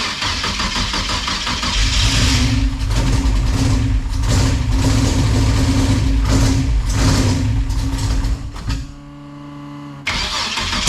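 A V6 Chevette engine with a freshly installed drivetrain and slightly off timing cranks, catches and revs loudly and roughly for several seconds, then drops briefly to a sputtering idle before surging again.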